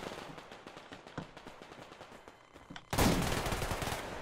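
Mosin carbine gunfire in the game Survarium, a series of sharp shots through the first stretch followed by a loud, sustained burst of heavy firing near the end.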